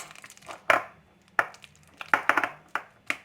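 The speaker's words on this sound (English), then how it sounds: "So I'm just going to give them a quick good mash." Soft squelching thuds come in irregular bursts as a fork presses and mashes bananas in a bowl, close up with quiet pauses between strokes.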